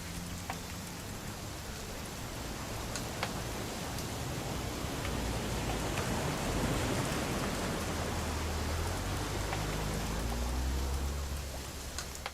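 Rain pours down in What Remains of Edith Finch, a broad hissing wash of drops with scattered sharper ticks, swelling slightly in the middle and holding steady to the end with no voices.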